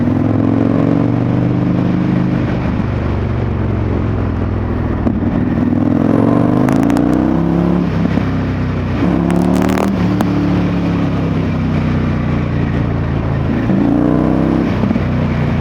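Indian FTR1200 motorcycle pulling hard with strong torque, its engine note climbing in several rising sweeps between brief gear changes, loud and close with wind noise.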